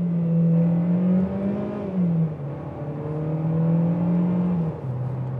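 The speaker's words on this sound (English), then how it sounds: "It's decently raspy, actually. It's not that bad, the engine." A Mercedes A-Class A200 engine revs up and holds, a loud, steady droning note that climbs, dips briefly and rises again with a raspy edge, close and continuous with no voices.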